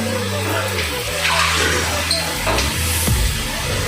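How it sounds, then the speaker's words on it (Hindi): A cup of water poured into a pot of aloo mongray sabzi, a loud continuous splashing gush lasting a few seconds, with sizzling and a low background hum beneath. "ये 1 कप पानी डाल दिया"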